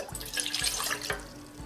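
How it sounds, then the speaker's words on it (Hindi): Water poured from a measuring cup into a cooking pot for a four-person batch of kadha, an immunity-boosting spiced drink; a steady splashing, trickling flow with a few soft thuds, heard up close with no voices. "4 कप पानी डालेंगे।"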